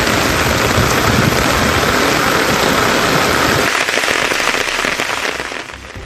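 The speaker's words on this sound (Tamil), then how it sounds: "நள்ளிரவில் இடியுடன் கூடிய கனமழை கொட்டி தீர்த்தது" Heavy overnight rain pours down in Tamil Nadu as a dense, steady hiss and roar with no voices, easing slightly toward the end.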